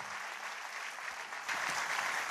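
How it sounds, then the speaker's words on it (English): An audience applauds a performing duo of sarod players, with dense steady clapping throughout that grows louder halfway through. "Could we have a huge clap for this amazing duo out here"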